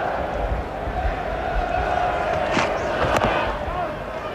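A full house of cricket spectators stands and applauds, a broad wash of clapping and crowd noise with a few louder sharp claps, while a commentator talks over it.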